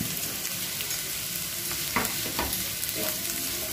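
Onion and capsicum stir-frying in a pan, a close steady sizzle with a couple of brief scraping stirs midway, no talk over it.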